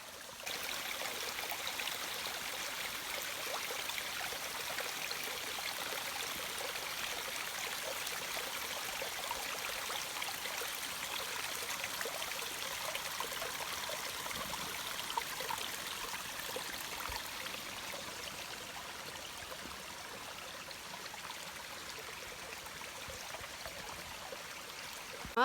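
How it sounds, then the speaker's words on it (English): Steady rush of a hidden waterfall deep in the Temagami wilderness of Canada, a constant, even wash of falling water heard at moderate distance with no voices over it. "Well, there's another waterfall for my Waterfall Wednesday."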